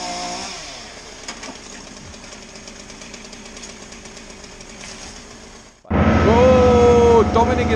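A chainsaw runs while cutting a beech tree, droning and buzzing with varying pitch for several seconds before suddenly revving loud and close near the end, with people talking in the background.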